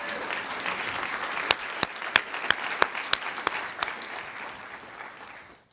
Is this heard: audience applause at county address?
yes